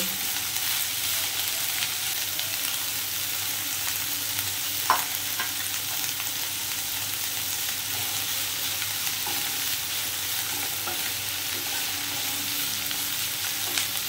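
Garlic with onion and ginger frying lightly in a pan for a chicken stew makes a steady, even sizzle, with a faint stir or clink now and then.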